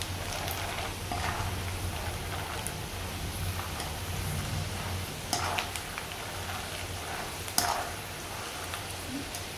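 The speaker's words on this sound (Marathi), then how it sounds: "असे फुटले की कळतं की तळलेले आहेत. आवाज येतो चटचट." Peanuts fry in oil in a kadhai with a low continuous sizzle, punctuated by a few sharp pops and crackles, close and fairly quiet.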